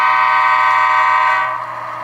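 An Athearn GP15-1 model locomotive sounds a loud, steady horn, one continuous honk that holds for most of the moment, then drops in level near the end.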